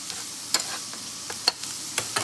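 Chicken pieces fry in olive oil in a pan for a chicken and carrot soup, giving a soft steady sizzle with a few sharp crackling pops, close by and without voices.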